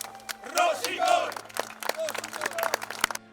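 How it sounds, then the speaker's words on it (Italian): Applause and cheering from a crowd greet the unveiling of a statue of footballer Paolo Rossi in Vicenza, with loud shouts and scattered claps, a chant-like voice rising above them. "Applausi"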